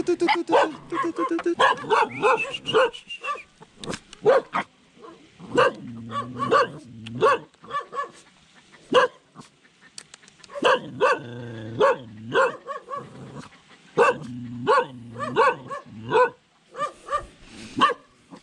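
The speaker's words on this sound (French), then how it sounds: "Oh, le petit chien." A small dog on a trekking trail near Sapa barks in repeated close, excited bursts and yips, while several people talk over and between the barks.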